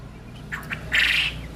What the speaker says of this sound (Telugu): గుడ్డు పెడుతుందేమో అందుకే కిక్కి కిక్కి అంటే